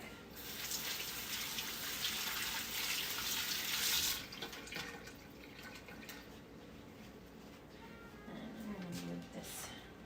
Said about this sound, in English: I'm gonna rinse them off real quick.